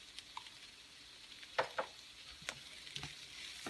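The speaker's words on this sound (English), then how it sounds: "Now we'll saute until the onion turns slightly golden." Onions sautéing with ginger garlic paste in a pan for malai kofta, a soft, steady sizzle broken by a few distinct scrapes and stirs of a spoon against the pan, fairly quiet and close.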